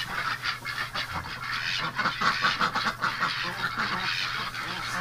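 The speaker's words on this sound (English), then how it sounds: "Oh, ducks." A flock of ducks in a barn quacks and honks in a busy, overlapping chorus, moderately close and continuous, with no talk over it.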